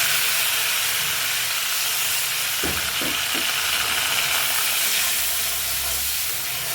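Bagar tempering for a bhetki or patari fish and potato curry: hot oil sizzles and hisses steadily in the pan, with a few sharp clatters of a spoon against the pan partway through.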